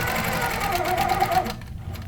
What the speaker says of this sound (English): I want to stitch right in that corner, so I make a nice sharp corner.